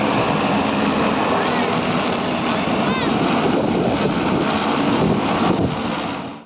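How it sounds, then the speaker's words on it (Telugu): A drone hovers with a loud, steady, buzzing roar throughout. Its downdraft is used by a farmer to winnow paddy. "డ్రోన్ గాలికి ఎగిరిచుట్లా అచ్చే గాలితోని వడ్లను తూర్పారబడుతున్నారు"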